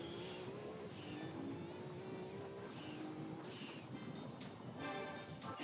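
Game engine of a downforce-heavy race car in Gran Turismo 2 sustains a steady, loud drone with rising and falling pitch through corners, continuous and unbroken, with no talking.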